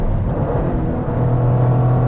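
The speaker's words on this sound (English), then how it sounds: "You can hear the turbo a little bit if you're listening" A 2023 Toyota GR Corolla hot hatch's turbocharged engine pulls hard under acceleration, a loud steady drone with a rising tone heard from inside the car.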